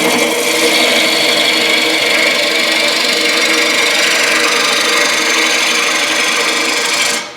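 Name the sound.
wood lathe turning tool cutting a wooden bowl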